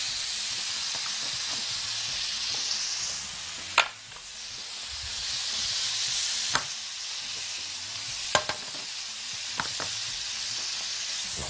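Marinated beef shish skewers sizzle steadily on a grill, a continuous bright hiss punctuated by several sharp clacks as skewers are set down.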